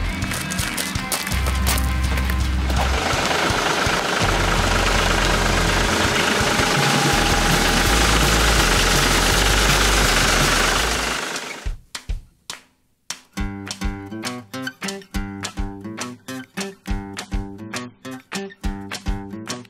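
A huge farm tractor's engine gives a loud, steady rumble for about twelve seconds, then cuts off, followed by rhythmic clunking and thumping.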